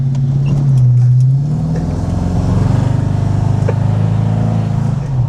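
A 1939 Ford 5-window steel-body custom coupe drives along with a steady, moderately loud engine drone that swells briefly near the start and then holds an even, low rumbling note without speech.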